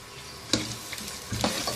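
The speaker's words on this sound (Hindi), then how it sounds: "एक बड़े साइज़ का प्याज स्लाइसिस में काट के शामिल किया है। इसको हल्का सुनहरा फ्राई करेंगे।" Large sliced onion frying in four spoons of oil in a pan: soft steady sizzle with a few sharp clicks of stirring, fairly quiet and close.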